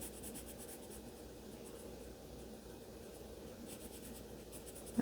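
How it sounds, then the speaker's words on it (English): Colored pencil scratching steadily across paper while a drawing of a snow hare is filled in with red, a soft continuous scraping close by with no talk. "Turning my pencil, trying to stay inside my lines here."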